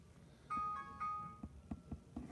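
A mobile phone rings with two short bursts of a tonal electronic melody, fairly faint, followed by scattered knocks and handling noises in a quiet room.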